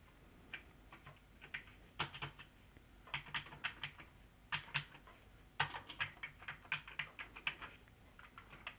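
Computer keyboard keys clicking while an Amiga game is played, irregular quick taps and short clusters of presses, fairly close and quiet, with no talk.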